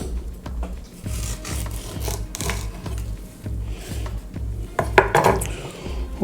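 A knife cuts through a soft dragon fruit on a board, with repeated rhythmic scraping and slicing strokes, close up and fairly quiet.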